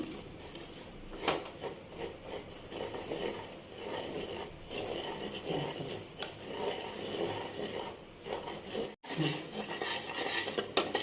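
Gram flour (besan) roasting in a pan while a spoon stirs it steadily, producing continuous close scraping and rubbing against the metal with occasional clinks and no talk.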